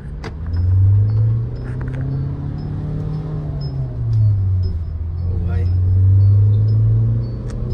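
A manual, two-wheel-drive Mahindra Thar Roxx 5-door SUV being driven on the road, its steady low engine rumble swelling and easing as it moves, with cabin noise throughout.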